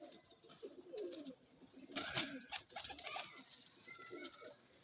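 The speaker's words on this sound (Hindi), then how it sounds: "ये देखें जी एक और कबूतरी," Female pigeons of a fancy breed cooing softly in a loft, low murmuring coos repeating over a few seconds with some faint rustling, no speech.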